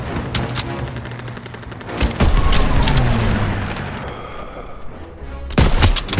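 Grenade blast and heavy automatic gunfire in the World War II shooter game Call of Duty WW2, with dense overlapping shots, a loud rumbling burst near the middle and sharp cracks returning at the end, no talk.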